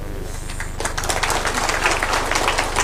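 An audience applauds for the Waziri at a national education conference in Kenya, the clapping swelling from a softer patter into a dense, sustained round that fills the room.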